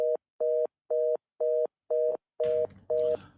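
A telephone tone sounds on a radio call-in line as seven evenly spaced beeps, each roughly a quarter second long, with a rustle of noise entering over the last two beeps.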